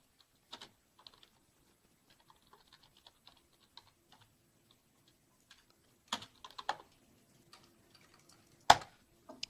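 Sparse keystrokes on a computer keyboard as a tar command is entered in a Linux terminal, isolated taps with pauses, then a quick cluster of clicks and one sharp loud key strike near the end, no talking.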